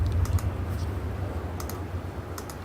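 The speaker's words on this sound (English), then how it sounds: "You just have to keep clicking" Mouse clicks while playing the computer game Riven: several quick, light clicks in short clusters over a steady low background hum, with no talking.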